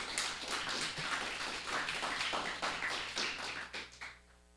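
An audience at an awards ceremony gives a round of applause, a steady crackle of many hands clapping that holds for several seconds and then thins out to a few last claps.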